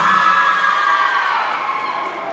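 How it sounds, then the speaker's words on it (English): College team welcomed by a crowd at the NEW LOGIC '22 event, a steady wash of cheering and whoops from a large audience filling the space, loud and continuous without pause. "Please welcome them with a warm applause."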